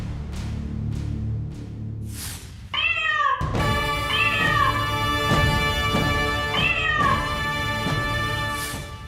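A house cat meows repeatedly, with several loud, drawn-out cries that rise and fall, heard up close over a faint low hum, with no talking.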